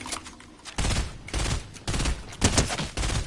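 Gunfire in a video game: repeated loud bursts of rapid shots come in several clusters, close and punchy, with brief gaps between them and no talk over the top.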